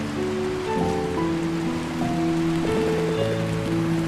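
Steady rain falls in the video game Until Then, a constant hiss of drops running underneath soft, sustained background music.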